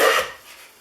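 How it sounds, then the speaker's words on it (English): A Stanley No. 5 hand plane, its throat cracked, takes a thick shaving from walnut in one short, close rasping stroke that is loud at the start and trails off into quieter scraping. "This is like work doing these thick shavings."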